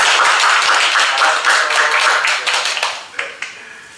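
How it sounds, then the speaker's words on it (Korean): A church congregation at a Children's Sunday morning service claps to bless the children, a loud burst of many hands that thins into scattered individual claps and fades out. "큰 박수로 한번 좀 표현해 주세요"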